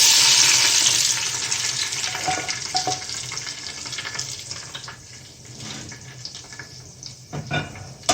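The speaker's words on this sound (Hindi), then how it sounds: "अब इस घी को और लहसुन को इसी कुकर में डाल देते हैं जहाँ हमारा साग है।" Hot desi ghee and fried garlic pour into a pressure cooker of saag, a loud burst of splashing sizzle at the start that settles into a softer crackle, with a few clinks near the end.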